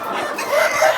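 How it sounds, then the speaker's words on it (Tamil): Roosters and hens of a native country-chicken breed cluck and crow at a poultry farm. A brief, close burst of overlapping fowl calls, with rising crowing notes toward the end. "இது எல்லாம் தான் ஆண் கோழிகள், சரிங்களா? ஆண் சேவல்கள்"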